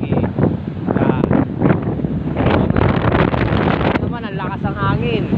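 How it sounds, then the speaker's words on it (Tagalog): Strong seaside wind buffets the microphone in a steady low roar, with a person talking over it throughout. "Ang lakas ang hangin."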